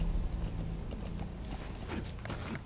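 A horse's hooves clip-clop on the ground in the Metal Gear Solid 5 video game, a quick run of close, distinct hoofbeats in uneven rhythm with a soft snort or whinny mixed in.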